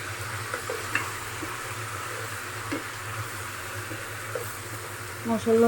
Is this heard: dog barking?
no